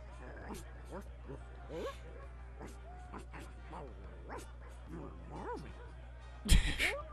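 A dog in The Secret of Monkey Island gives short, quiet barks and yips scattered under steady game music, with a loud thump near the end.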